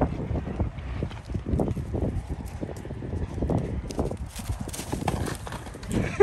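Horses are nearby, with rhythmic hoof clops and snorting over steady wind noise outdoors.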